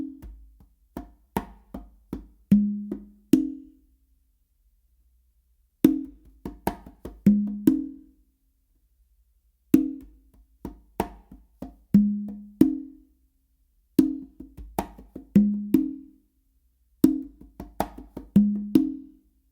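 Two congas play a modern funk pattern in short repeated phrases: crisp slaps and open tones, separated by brief silences, clear and close with no talk.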